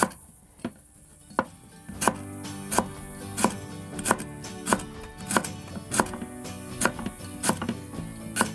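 A knife chops sweet potato leaf stems into small rings on a board, a steady run of crisp, close, evenly spaced strikes after a couple of slower opening cuts.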